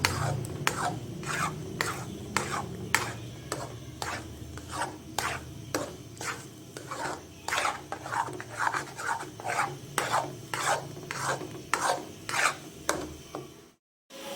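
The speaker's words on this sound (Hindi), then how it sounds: "बस इस तरह आप मुसलसल चम्मच हिलाते रहेंगे।" Spoon stirring halwa in homemade ghee in a pot, a steady run of rhythmic rasping scrapes about once a second, close and moderately loud, ending in a brief silence with no voices.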